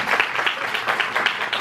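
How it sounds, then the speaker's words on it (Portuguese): Audience applause at a university lecture on archivists and information technology, a short burst of steady clapping from a room of listeners. "E os nossos aplausos, né,"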